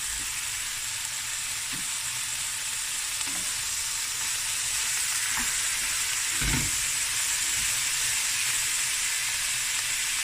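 Prawns and precooked mussels fry in a hot pan over high heat, giving a steady loud sizzle with a few soft clanks of stirring, no talk.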